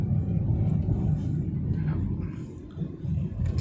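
A 2010 Nissan March eases away from a standstill, its engine giving a steady low rumble that holds through the move-off, with a brief softening in the middle before the drone returns.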